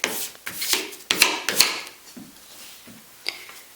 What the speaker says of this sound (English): I like to burnish this a little bit to make my print turn out a little better.